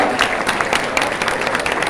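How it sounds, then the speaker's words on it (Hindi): Brisk, dense applause from an audience at a college inaugural ceremony welcoming the chief guest, an even burst of many hands clapping close by. "जोरदार तालियां"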